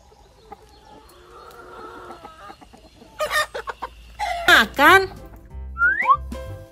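Rooster crowing calls from a children's counting lesson ring out in short bursts, rising and falling, louder toward the end, over a quiet background with a voice imitating the crowing.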